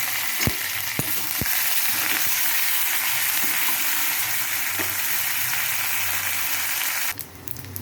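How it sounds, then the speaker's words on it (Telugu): Garlic sizzles in hot oil for a tempering in a home kitchen pan, a steady bright frying hiss broken by a few sharp clinks of a utensil early on, then a brief scrape near the end. "తాలింపులు పెట్టుకోవటమన్నప్పుడు వెల్లుల్లిపాయ వేసాను"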